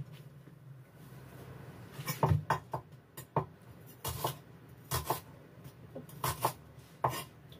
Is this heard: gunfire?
no